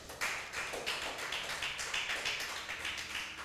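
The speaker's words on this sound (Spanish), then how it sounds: "Denle un aplauso al Señor con alegría." A church congregation claps together at a service, a steady rhythmic run of hand claps filling the room with no talking.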